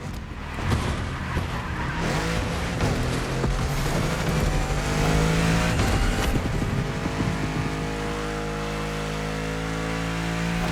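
A supercar in The Crew Motorfest drives hard with continuous engine roar and sustained tire squeal, loud and steady throughout, with no talk.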